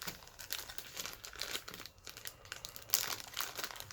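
Plastic packaging for a concealed ankle holster is sliced open with a knife, giving a busy run of crinkling and tearing plastic with sharp bursts, close and fairly loud, no voices.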